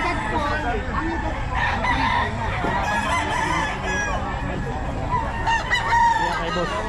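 Chickens at a poultry sale, including hens, cluck continuously while a rooster crows loudly and repeatedly nearby, under background chatter from people.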